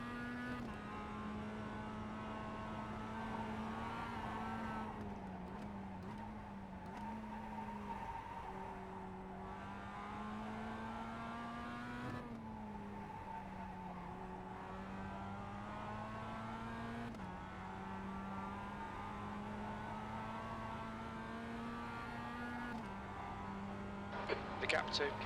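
Mazda MX-5 Cup race cars in the iRacing sim at Summit Point, a steady engine drone rising and falling through gear changes, with brief tire noise at the end; a driver talks over it.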